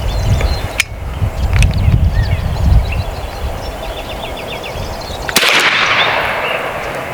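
An AEA Defender 2 long-barrel air rifle fires outdoors at a range, two sharp loud cracks standing out over rumbling background noise, with birds faintly chirping between the shots.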